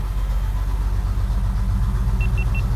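Muscle car engine running in gear, a steady, loud low rumble with a mechanical pulse, and a few faint high beeps near the end.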